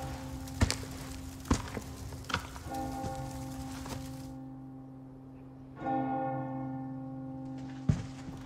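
A church bell rings in the video game Resident Evil 4 Remake, a sustained resonant tolling with lingering overtones. It is layered over soft thunks and rain-like ambience, moderately faint, with no talk.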